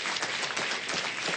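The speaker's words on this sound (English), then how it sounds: "How about a round of applause?" Steady, dense applause from an audience at a city council meeting, sustained and even for the whole stretch with no voices over it.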